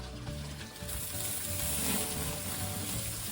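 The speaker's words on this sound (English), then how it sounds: "We're at 300 degrees Celsius now. Let's sear the meat." Pork roast searing on a Kamado BBQ heated to about 300 °C, a loud, steady sizzle close up that swells after the first second and holds without a break.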